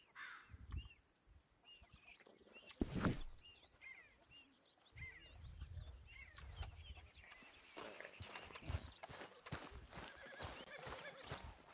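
Outdoor ambience in Red Dead Redemption 2 with a horse's whinny and snorts, birds cawing and crowing around it, and a sharp loud burst near the start.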